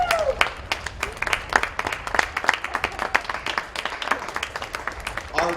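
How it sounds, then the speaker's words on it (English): Spectators at a polo match applaud both teams: scattered, uneven clapping from a small outdoor crowd, moderately near, with some voices mixed in and a short tone at the start and end. "let's give both teams a round of applause."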